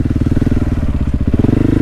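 Husqvarna 701 single-cylinder motorcycle accelerating hard, a loud close pulsing engine note with rapid rhythmic firing that rises in pitch toward the end.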